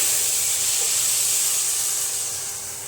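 Tomato puree hitting hot masala in a pan while making potato pakora curry, giving a steady, bright hiss of sizzling that holds strong and fades slightly toward the end, with no voices.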